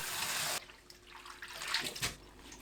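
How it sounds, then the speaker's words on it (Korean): Blanched chwinamul (aster greens) are rinsed in cold water, opening with a brief burst of running tap water, then soft splashing and dribbling as the greens are handled. "줄기를 만졌을 때 말캉하게 들어가면 찬물에 2~3번 헹궈주세요"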